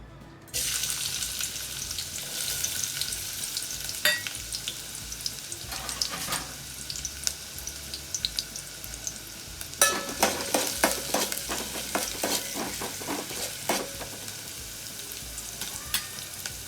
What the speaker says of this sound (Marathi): तेल आता तापत ठेवलेलं आहे. कांदा लसूण टाकणार आहे फोडणीला